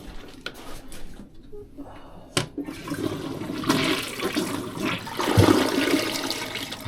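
A household toilet flushes up close, a sudden rush and gurgle of water swirling and draining that grows louder before settling into a steady flow.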